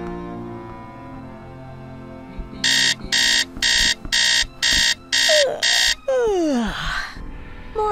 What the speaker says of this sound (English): Alarm set to 6 o'clock in the morning.